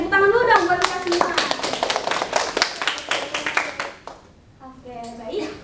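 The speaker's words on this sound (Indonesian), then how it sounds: "Tepuk tangan dulu dong buat kita semua." A classroom of children in Indonesia claps hands together in a brisk, lively burst, with a voice speaking just before and after the clapping.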